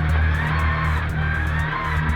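A rally car engine drones and revs as the car spins on snow, tires hissing, a continuous loud mechanical roar over about two seconds.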